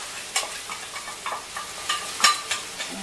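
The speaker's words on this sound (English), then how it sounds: "I take the rice, scoop it all out, right into the oil." Rice scooped into hot oil for coconut fried rice, giving a loud, close crackling sizzle with repeated bursts of spatter as it is stirred and scraped around the pan.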